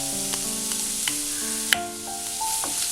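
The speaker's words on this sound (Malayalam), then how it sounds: "ഇതെല്ലാം ഈ എണ്ണയിൽ കിടന്നിട്ട് ഒന്ന് മൂത്ത് വരണം." Onion and green chilli frying in oil while cooking a vegetable paneer dum biryani, a steady close sizzle with occasional stirring clicks and light taps, no talking.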